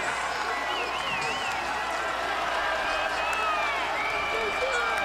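Stadium crowd roaring steadily on a third-and-seven play at a college football game, Liberty at Jacksonville State, a dense continuous wash of cheering and whistles at loud, even level throughout.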